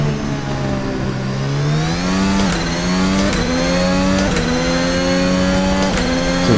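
A VRC Formula Alpha single-seater race car screams loud and close on the Baku circuit in Assetto Corsa, its engine pitch climbing through several quick upshifts under hard acceleration.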